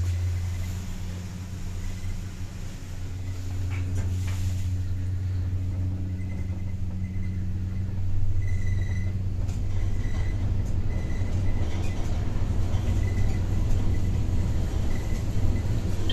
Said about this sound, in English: Elevator D, going up.